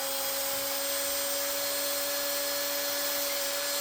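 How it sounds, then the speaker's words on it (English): High, steady whine of an electric drill running continuously at constant speed, close by, with no voices. "you don't have to drill the hole that big"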